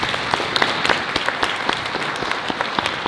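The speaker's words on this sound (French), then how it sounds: "Moi, je propose carrément d'applaudir" Audience at a Japan pop show interview breaks into steady applause, dense crackling claps filling the room at moderate loudness with no talk over it.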